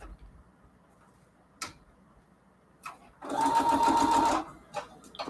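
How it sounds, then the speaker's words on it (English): A sewing machine stitches fabric for foundation paper piecing in one steady, loud run of about a second, with quieter clicks and handling noises before and after. "then I'm going to sew on the side that we can see the numbers on"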